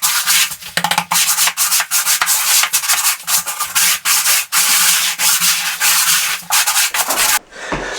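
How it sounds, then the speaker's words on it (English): An old wooden trowel scrapes and smooths across an uncoupling membrane laid for electric floor heating, giving loud, continuous rough rubbing strokes in quick succession, close up and with no talking. "I smooth it in with an old wooden trowel."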